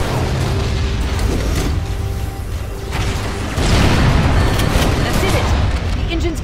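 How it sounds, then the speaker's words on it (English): A fusion reactor aboard a ship in Halo: Combat Evolved blows apart in a loud, continuous rumbling explosion with booming surges and crackling debris, swelling louder toward the end. "Fusion reactor number one destabilizes."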